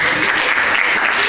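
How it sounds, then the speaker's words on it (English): Audience at a hypnotist show clapping, a brief, dense burst of applause that fills the room at close range. "Let's give another big round of applause,"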